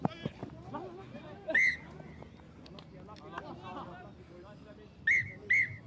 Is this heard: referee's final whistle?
yes